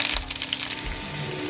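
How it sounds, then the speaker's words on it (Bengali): Vegetables frying lightly in a pan with fried paneer, a steady, soft sizzle with a few crackles near the start, heard alone at close range. "এর মধ্যে সবজিগুলো দিয়ে হালকা ভেজে নিচ্ছি।"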